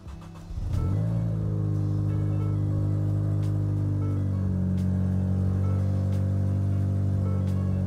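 A Ford Fiesta ST engine cranks and fires up after a fresh spark plug install, settling into a steady, even idle that holds close and alone for several seconds.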